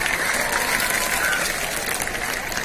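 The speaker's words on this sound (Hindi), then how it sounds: "तालियां बजाओ तालियां।" An audience of devotees at an evening gathering claps together in a steady, dense wash of applause, with crowd noise blended underneath.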